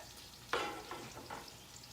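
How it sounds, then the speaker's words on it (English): Ramen noodles tossed in a hot pan with teriyaki sauce on a burner at about medium-high, a steady close sizzle broken by two or three scraping, swishing tosses. "I toss the noodles a couple times, get the sauce all over."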